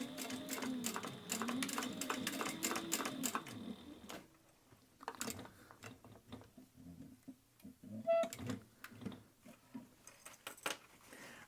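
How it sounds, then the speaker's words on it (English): A sewing machine stitches up the side seam of a fabric phone pocket bag. It runs in a quick, rhythmic burst for about four seconds, followed by quieter handling clicks and taps. "So we sew up the side here."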